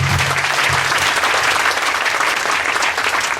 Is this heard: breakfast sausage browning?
no